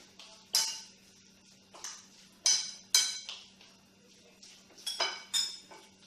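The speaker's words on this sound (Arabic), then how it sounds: "كنزيد الملح وكنخلط هذا الدجاج جيدا" Chicken being mixed with salt and spices in a bowl, with a metal spoon clinking against the dish in scattered sharp taps over a faint steady hum. No one speaks.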